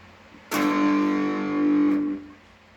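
Electric guitar with an overdrive distortion tone: a single sustained, gritty chord rings for about a second and a half before being cut off, loud and alone.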